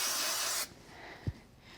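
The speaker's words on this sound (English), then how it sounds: "Same thing, bit of spray glue and then the Cosmic glue." A short, loud hiss from an aerosol can of spray glue, about half a second long, cutting off abruptly, followed by a soft thump.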